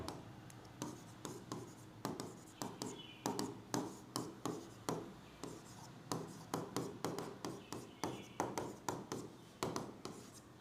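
Handwriting an equation on paper: a close, continuous series of scratchy pen strokes in short rhythmic bursts with brief pauses between, steady throughout and with no speech.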